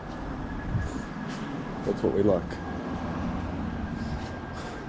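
At Ascot station, a train rumbles steadily in the background, a low continuous hum with faint squeals, while a person talks briefly.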